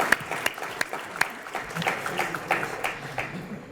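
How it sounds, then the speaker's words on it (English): Scattered applause at a university hooding ceremony, a modest audience clapping with a few sharp, distinct hand claps standing out over the rest, moderately faint and alone. "Clap loud."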